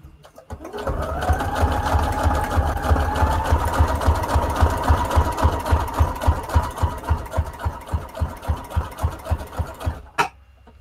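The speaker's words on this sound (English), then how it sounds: "Again, we're going to do a zigzag stitch." A sewing machine runs a zigzag stitch on junk journal tags, a close, steady rapid thumping that continues for about nine seconds before slowing into distinct beats and stopping.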